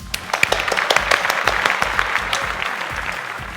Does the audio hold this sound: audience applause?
yes